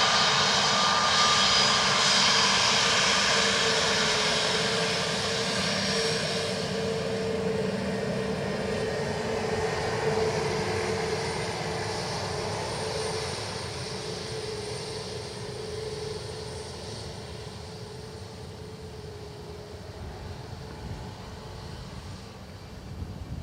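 An Aer Lingus airliner arriving from Heathrow at Dublin Airport roars past, a loud sustained engine rumble that slowly fades as it moves away.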